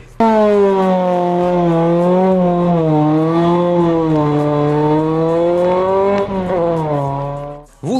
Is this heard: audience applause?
no